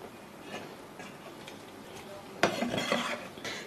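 A knife cuts shrimp intestines into pieces on a cutting board. Faint, evenly spaced taps sound on the board, ending in a sharper, louder chop and a few quieter knocks, with soft kitchen background noise.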